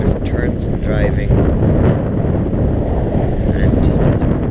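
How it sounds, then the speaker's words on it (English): Loud, constant wind rushes and buffets the microphone during a road trip in an electric car after rain, with faint voice-like sounds briefly surfacing in the roar. "The weather has improved slightly, it's still very windy, as you can hear."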